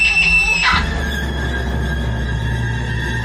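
A woman screams loudly in a horror story, one sharp high shriek cut off abruptly, followed by a steady eerie low drone that lingers on its own.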